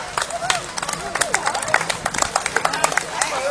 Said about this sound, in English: let's have a big round of applause for my volunteers